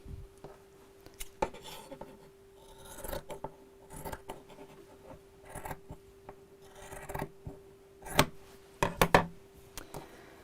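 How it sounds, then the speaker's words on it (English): Scissors snip through bag lining fabric in scattered close cuts with soft rubbing and handling noises between them, a few sharper snips near the end, no talking. "So let's cut 4 inches by, let's do 4 inches square."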